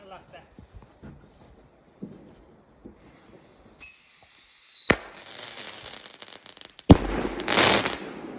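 Fireworks outdoors: a rising whistle, then a sharp close bang with crackling, and a second loud blast with a hissing spray, preceded by faint rustling and knocks; people talk nearby.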